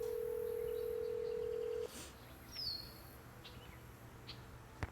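A phone in the Nancy Drew game The Secret of Shadow Ranch gives a steady tone that cuts off, followed by a short rising electronic chirp and faint beeps, quiet and without talk.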